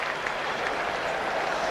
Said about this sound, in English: I can hear a ripple of applause there.